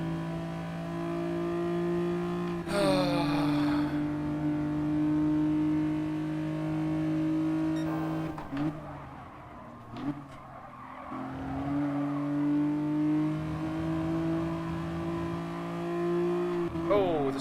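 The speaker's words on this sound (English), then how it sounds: "What car am I driving? This is the Renault Clio." Renault Clio race car in Gran Turismo, engine droning with steady revs and gear shifts, tires squealing at points, with someone talking over it.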